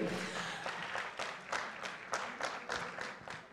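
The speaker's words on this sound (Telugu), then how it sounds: "అస్సలు కొడుతున్నారు క్లాప్స్, మామూలు క్లాప్స్" An audience applauds at a success celebration for the film The Girlfriend, fairly faint clapping with repeated rhythmic bursts, heard from some distance.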